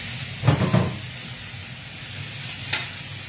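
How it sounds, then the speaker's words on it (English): Day-old cooked rice hits a hot pan for a breakfast stir-fry, giving a steady close sizzle with a couple of stirring scrapes near the start and a faint knock later, with no talk. "I'm going to get a little fry on that rice."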